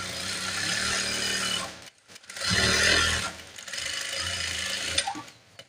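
A sewing machine stitching a nursing uniform top whirs in steady runs of a few seconds each, separated by short pauses, with a mechanical click near the end.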